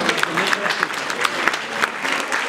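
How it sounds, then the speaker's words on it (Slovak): Audience clapping at a Christmas gathering of seniors, a dense steady patter of many hands filling the room from start to finish with no break. "Za potlesku samozrejme."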